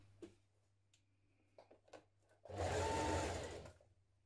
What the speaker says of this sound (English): Now stitch it in place.